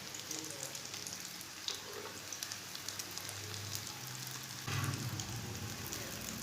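Bread slices frying in a pan, a soft continuous sizzle with small crackles and a short louder burst near the end as a slice is turned over.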